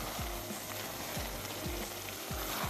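Gur ke chawal, rice coated in jaggery syrup, cooking on a high flame, giving a steady loud sizzle with a few soft stirring scrapes spaced through it.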